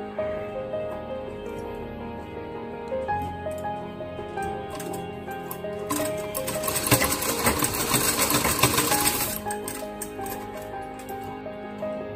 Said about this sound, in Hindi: अभी ये इलास्टिक ऐसा दबा के यहाँ पे सिलाई मारेंगे दोनों साइड।